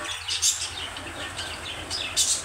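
Pet aviary birds kept indoors chirp in brief, faint high tweets scattered over a steady low household hum, a few calls standing out near the start and end.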